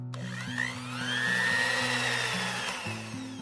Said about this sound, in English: Let's blend this.